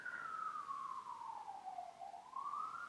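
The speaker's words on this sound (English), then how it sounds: "It's a fire truck coming around." A fire truck siren wails in the distance, one long steady tone that slowly falls and then rises again as it passes, faint and alone with no voices.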